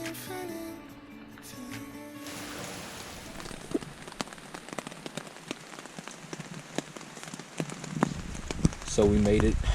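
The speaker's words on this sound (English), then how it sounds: "we do have a little bit of rain. So we'll be hiking in the rain" Rain falls steadily on an Appalachian Trail section hike, a dense patter of drops with scattered sharper taps nearby, and a voice speaks briefly over it.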